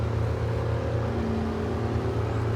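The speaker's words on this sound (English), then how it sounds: "Still always impresses me, the sound of these Ank engines." A heavy truck engine in the video game SnowRunner, a deep, steady idling rumble with layered low harmonic tones, continuous and close, without any talk over it.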